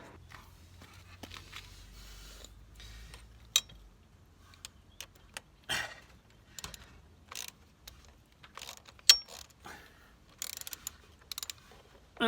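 A bolt on a brake fluid reservoir guard of a Honda CB500X motorcycle is tightened, giving close metallic clicks and ratcheting taps in irregular bursts over a low background hum, with no speech.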